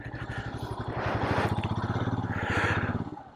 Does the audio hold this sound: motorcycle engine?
yes